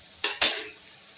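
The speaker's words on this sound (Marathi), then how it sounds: "त्याला छान फुल फ्लेमवरती मस्त फुल गॅसवरती याला छान व्यवस्थित तळून घेणार आहोत आपण" Potatoes deep frying on full flame for chilli potato, with two sharp bursts of stirring and utensil clatter over the oil's soft sizzle that fades quickly, no talking.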